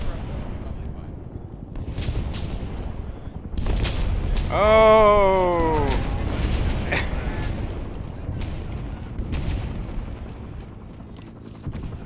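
Artillery shells booming in ArmA 3 set in a jungle, heavy rumbling blasts rolling under excited voices, with one voice letting out a loud shout in the middle.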